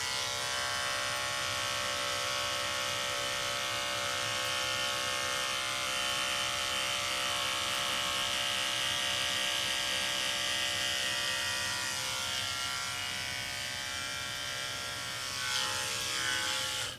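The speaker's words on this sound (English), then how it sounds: "watch in front of the clipper, and you'll see this hair moving as you're going up through there" Electric clippers roach a gaited mule's mane, a steady close buzzing hum that runs unbroken throughout, shifting slightly in pitch as the blades work through the hair.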